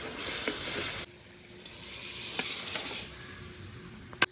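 Curry with ground cumin paste stirred in a hot pan, a steady close sizzle with a few sharp spoon scrapes against the metal, the frying noise dropping slightly partway through.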